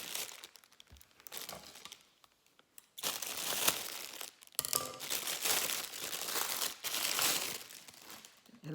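Mesh bling wrap for the back of a photo frame crinkles and rustles as it is handled, loud close crackling in long bursts with a brief quieter stretch between.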